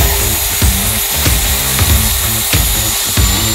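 Bosch GKS 140 circular saw cutting through a 52 mm thick wooden bar, a steady loud motor whine and blade rasp with repeated rhythmic surges, close up and alone with no talk.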